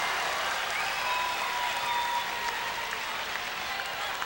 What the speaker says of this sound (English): It is a packed house here at Norristown and a very vocal crowd.